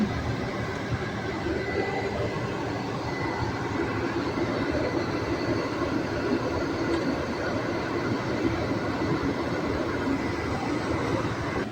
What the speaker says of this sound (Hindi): ये कोई ट्रेन आई है